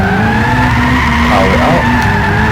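Tyres squeal steadily through a handbrake drift in Gran Turismo 6, a loud continuous skid over engine drone that wavers in pitch partway through and carries on without break for the whole stretch.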